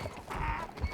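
Horse hooves trot in the video game Red Dead Redemption, a quick muffled clip-clop over a rumbling background, close and steady for a moment with no talk.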